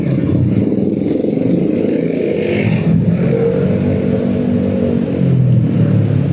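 Steady motorcycle engine drone on a road near Puncak, loud and continuous, with rumbling traffic and slight revving throughout.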